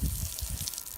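Water runs from a small hand shower head beside a pool, a close, uneven splashing and dribbling flow that sputters briefly on its own.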